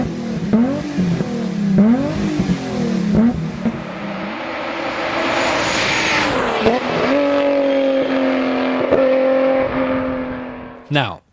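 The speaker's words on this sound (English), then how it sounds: "with a good exhaust, it's better sounding than any non-M BMW Straight 6 that came after" A BMW E30 straight-six with an aftermarket exhaust revs hard and loud in rising and falling bursts, then holds a steady high-rpm drone before cutting off sharply at the end; tire squeal and skidding may mix in, with no talking.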